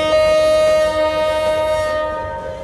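A special intercity train pulls into platform 4 at Chattogram station in a Bangladesh train simulator game, its horn sounding as one long steady tone over the rumble of the cars, loud and close throughout, with no talk.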